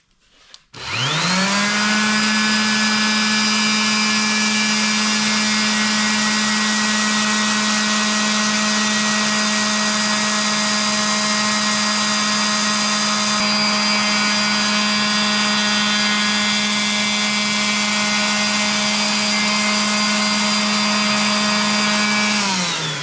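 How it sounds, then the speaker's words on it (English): A palm sander smoothing the wooden handle of a Kelly Tasmanian splitting axe starts up with a click and runs as a loud, steady, close motor whine without a break for over twenty seconds. "I used the palm sander that time because I'm taking wood away"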